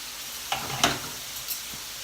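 Turkey breast strips sizzle in a hot pan with a steady, close frying hiss, and a few soft scrapes come as the pieces are moved around. No one speaks.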